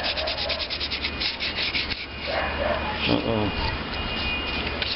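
Hand sanding with sandpaper on part of a Maytag Model 72 washing machine being prepared for paint, a steady close rubbing scrape that grows rougher and louder partway through, with a voice talking over it.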